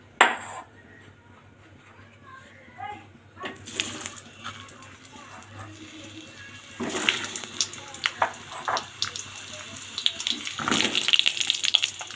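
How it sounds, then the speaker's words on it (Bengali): Pointed gourds coated in turmeric drop into hot oil and fry. The sizzle and crackle start quiet and swell into louder, busy bursts, with no voice over them. "পটলটা আমি আগে ভেজে নিচ্ছি।"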